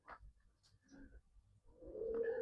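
Soft, low cooing from green-eyed pigeons kept by a pigeon fancier, heard quietly and fairly close, with the cooing growing fuller toward the end.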